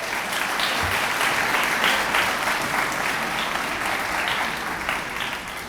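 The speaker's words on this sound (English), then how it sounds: "Let's give these wonderful students another round of applause." Audience at an elementary school awards ceremony in Okaloosa County clapping steadily, a dense, loud round of applause that holds evenly throughout with no voices over it.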